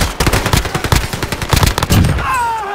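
Loud, rapid automatic gunfire in a video game shooter, a fast stream of close shots lasting a couple of seconds before trailing off into ringing tones.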